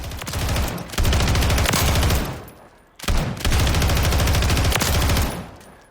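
RPL-20 machine gun in Call of Duty Modern Warfare III fired in two long, loud full-auto bursts, rapid evenly spaced shots roaring continuously for about two seconds each with a short break between.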